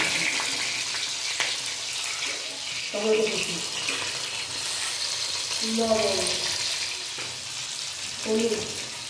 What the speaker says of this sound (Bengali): আদা জিরে গোলমরিচ বাদা তেলের মধ্যে সব ভালো করে কষাবো